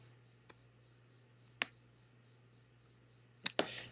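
Computer mouse clicking while working in Illustrator CS6, four crisp, close clicks, the last two in quick succession, over a faint steady hum.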